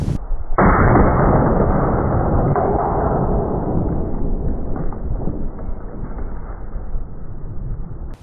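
A .500 S&W Magnum revolver fires once at a 16 lb bowling ball outdoors, a sudden loud blast followed by a long, rumbling, noisy tail.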